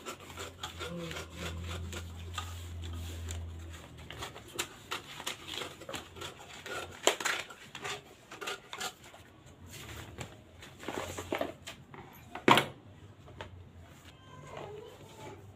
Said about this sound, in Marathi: आता आपण एक्स्ट्राचा जो आपला पेपर आहे तो आपण कट करून घेऊयात